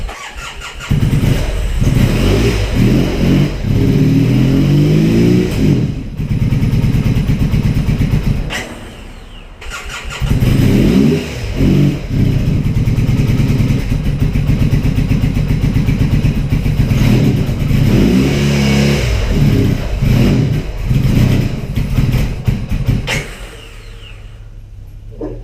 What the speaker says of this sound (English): The Bonneville is a runner. It doesn't run good, but it runs.